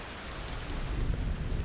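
Soft rain patters steadily with a low, rumbling undertone, a short stretch of gentle, even rainfall without any voice.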